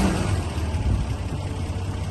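A cold Toyota FJ45 pickup with a gasoline engine runs just after starting, a steady low idling rumble with slight uneven pulsing, close by and with no one talking.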